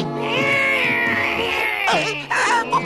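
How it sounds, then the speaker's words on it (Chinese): Azrael, the cartoon cat from The Smurfs, lets out a long, drawn-out, wavering meow, then a couple of shorter yowling cries, loud and close with no talking over it. "阿兹猫，喵喵。"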